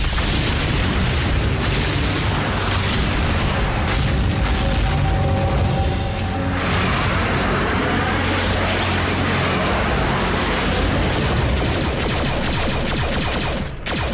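A cartoon explosion destroys an energon depot at a gas station: one long, dense roaring blast with rumbling booms and crackling debris that stays loud for the whole stretch, with almost no voices.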